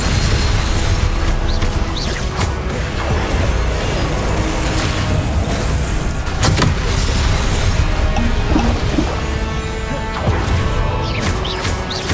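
Confringo blast spells explode in Hogwarts Legacy with loud booming bursts, a heavy sharp blast standing out midway, over continuous dense game sound with no talking.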